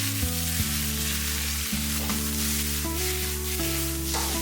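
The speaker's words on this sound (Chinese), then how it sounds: "开大火快速的翻炒均匀" Eggplant and green beans are stir-fried over high heat in a wok, giving a continuous bright sizzle under steady background music with no talking.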